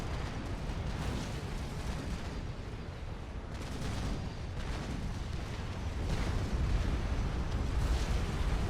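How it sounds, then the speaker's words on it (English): A line of Demolisher artillery units fires continuously in the strategy game Supreme Commander: Forged Alliance, a dense, unbroken rumble of overlapping booms and blasts that swells slightly toward the end, heard alone without talk. "we're going to look at this beautiful firing line of demolishers"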